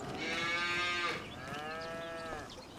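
Cows in farm sheds low in two long, clear moos, the first louder and nearer, the second slightly softer, with quiet shed ambience and no voices.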